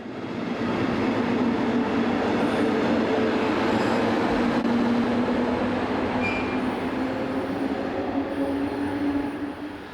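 Class 143 electric locomotive 143278 pulling out of Naumburg station, a broad steady rumble of rolling stock with wheel and rail noise and faint squeals, sustained and fairly close throughout.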